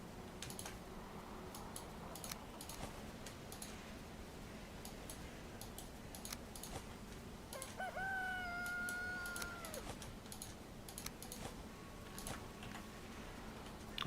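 Video game chickens cluck faintly, and a single rooster crow rises clearly midway, with steady clicks of computer keyboard typing throughout.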